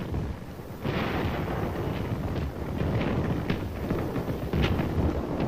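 Battle gunfire and artillery as Marines lay down a base of fire on contested high ground, a dense continuous roar with scattered sharp cracks and booms throughout, loud and unbroken.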